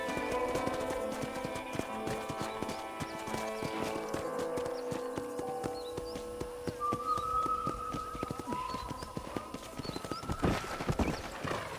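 Steady clip-clop of horse hooves in Red Dead Redemption, a close, even trot with a distant whistle and tonal game music underneath.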